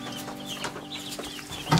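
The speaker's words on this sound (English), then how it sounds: "So the one thing we got going on in here is our meat birds. These are Cornish-Crosses." Cornish Cross meat chickens cluck and peep inside a brooder set up in an old quail barn, a close cluster of soft overlapping calls ending in a sharper, louder squawk.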